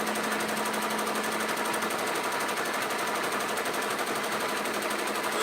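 A sewing machine runs steadily while sewing a tutu, giving a close, even mechanical whir with a fine rapid stitching rhythm that carries on unbroken for the whole stretch.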